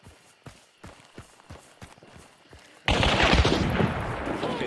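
A revolver is fanned in the game Hunt: Showdown, a rapid string of sharp shots in quick succession, then a dense loud burst of gunfire and chaotic noise, with faint speech.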